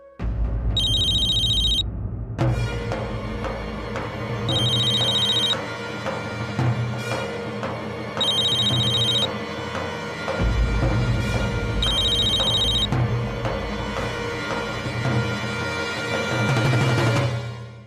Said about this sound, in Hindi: लेकिन पूर्वी तेरा फोन।